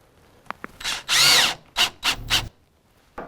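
A power drill drives a screw into a wooden bow-making backset form in several short whirring bursts, one longer sustained run followed by three quick pulses, close and loud with brief clicks between.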